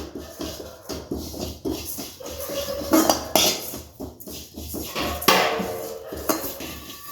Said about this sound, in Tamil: இப்போ சீரகத்தை போட்டு வறுக்கணும்